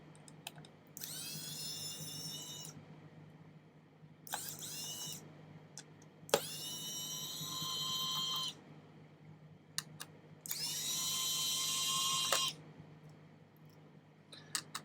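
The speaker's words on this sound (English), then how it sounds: "So first we have to remove these four screws." A small electric screwdriver fitted with a T5 bit removes the bottom screws of an Asus Zephyrus laptop, whirring in four separate close, high-pitched bursts with quiet pauses and faint clicks between them.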